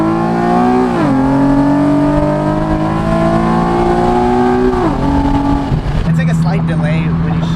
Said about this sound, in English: we're about to do a second gear 40 roll. My first pull in an admin tuned 370Z.